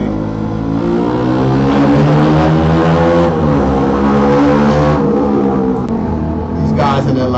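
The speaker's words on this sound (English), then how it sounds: "These guys in their loud motorcycle is so annoying," A loud motorcycle roars past close by, its engine note rising and falling steadily for several seconds, with a person talking over the din.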